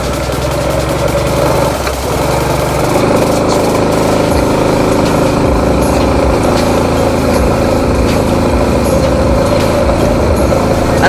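A motorcycle climbs a steep mountain road in second gear, its engine laboring and droning loudly at close range with a rough, strained tone that shifts slightly early on and then holds steady.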